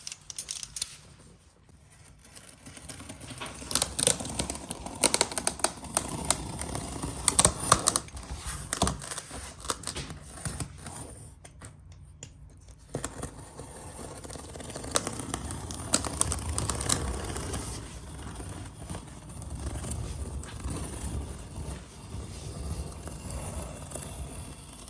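Cardboard packaging of an LG Nano82 65-inch TV is cut open with clicks, scrapes and crinkles, intermittent and close, fairly quiet with a short lull in the middle.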